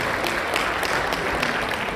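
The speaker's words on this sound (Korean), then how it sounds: "다시 한번 감사 박수를 부탁드리겠습니다" Sustained applause from a seminar audience at a district membership event, a steady wash of many hands clapping at moderate loudness, continuous for the whole stretch.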